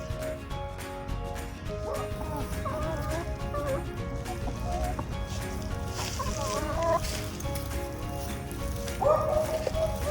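Backyard chickens cluck and murmur close by in a coop in a busy, steady stream, with occasional louder squawks breaking through the low background noise.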